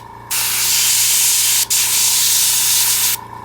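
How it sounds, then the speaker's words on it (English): Airbrush spraying paint onto a King Tiger tank model, a loud close steady hiss that cuts in abruptly, pauses for a split second midway, then stops, over a low constant hum. "now I'm just gonna refill my airbrush"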